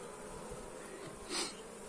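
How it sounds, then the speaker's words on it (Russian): Honey bees buzz steadily around an opened beehive during an apiary inspection, a dense continuous hum with one bee swelling louder as it passes close by. "Смотрим, что там делают пчелки."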